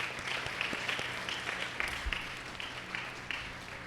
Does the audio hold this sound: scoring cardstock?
no